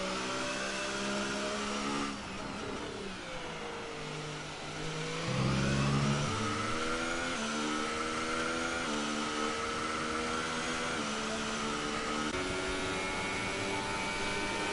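A racing car engine screams through a hot lap in a racing game at the Brazil round, revving high, dropping briefly for a corner, then climbing again through repeated gear changes, loud and continuous.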